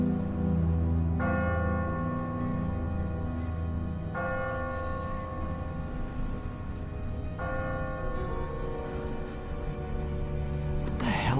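Church bell tolling in The Walking Dead game, three slow, evenly spaced strikes each ringing with a bright, sustained metallic hum over a low, steady ambient drone.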